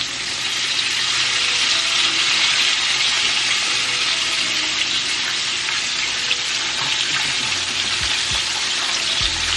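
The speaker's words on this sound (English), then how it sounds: "I'm going to lift these wings like this so it can fry under here in this area" A whole Cornish hen deep-frying in hot oil, with a loud, dense, constant hiss and bubbling sizzle that fills the entire stretch, plus a few low knocks near the end and no voices.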